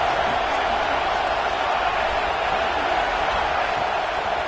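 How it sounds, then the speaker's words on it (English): A packed Michigan football stadium crowd roars in a steady, dense wall of noise early in a game, loud and unbroken throughout with no clear voices standing out. "This crowd bringing the energy and noise early."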